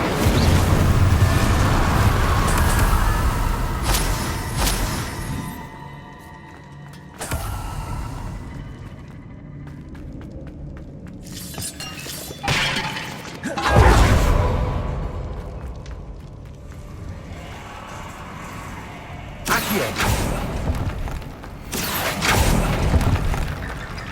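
Fire spells from the video game Hogwarts Legacy, Incendio and Confringo, cast repeatedly as loud bursts and booming blasts in fast bursts, separated by quieter gaps of ambient game sound.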